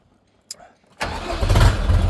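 A short click, then a Scout TU 404 tractor engine turns over with the choke on and catches, settling into a loud, rough, steady running rumble close by.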